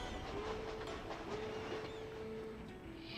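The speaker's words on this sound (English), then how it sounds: "Oh, look, train." Train rumbling along in the strategy game Shogun 2: Fall of the Samurai, a steady mechanical rolling drone with a faint sustained whistle-like tone, heard alone without talk.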